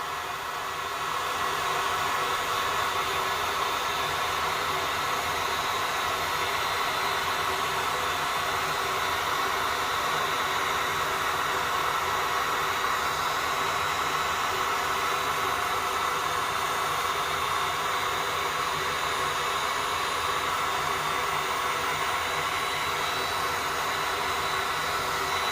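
A hair dryer blows steadily on a resin craft project, a loud, continuous broadband whoosh that holds unchanged from start to finish with no pauses and no voices.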